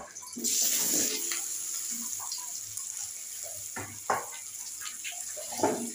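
Potatoes go into a hot pan of crab curry with a sudden loud hiss, followed by softer, uneven sizzling and spattering that continues close by.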